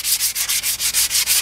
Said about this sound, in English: I'm not going to bore you with me sanding through all this.